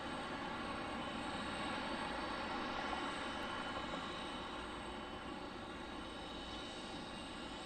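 A Delta Boeing 737-900 airliner departing Detroit Metro Wayne airport, a faint, steady, broadband engine roar heard from a distance that holds without pause throughout.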